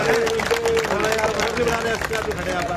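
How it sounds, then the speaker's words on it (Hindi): A crowd at a BJP public rally in Dwarka, Delhi, claps continuously in a dense, steady roar, with voices and cheering mixed through the applause. "हमारे तरफ से भी ताली बजा दें"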